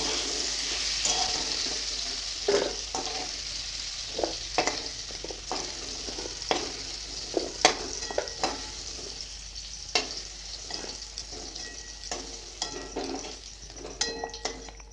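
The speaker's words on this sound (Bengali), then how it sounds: "একটু নাড়াচাড়া করে নিব লাল লাল করে ভাজা হয়ে গেলে তুলে নিব" Potato pieces fry in hot oil in a kadai while a spoon stirs them, giving a steady sizzle broken by repeated scraping and clinking strokes, close and clear with no talking.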